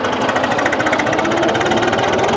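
A modified tractor with a reworked fuel pump and turbo runs loud and close, its engine hammering in a fast, even, rattling rhythm with no talking over it.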